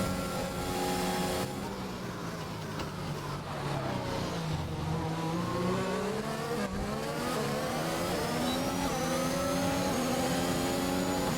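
F1 race car engine in F1 2021 during an overtake at the wet Austria Grand Prix, a steady high-pitched whine rising and falling through gear changes, close and continuous with a second car's tone sweeping past.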